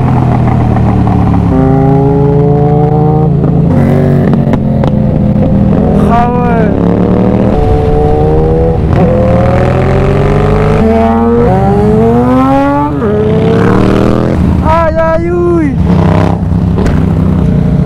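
A loud car engine revs again and again, its pitch sweeping up and down through repeated accelerations, very close and continuous, with people talking over it.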